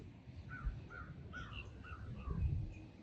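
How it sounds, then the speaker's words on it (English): A flock of crows calls outdoors, scattered harsh caws overlapping at mid distance against a low rumble of wind and ambient noise. "It's a bunch of crows,"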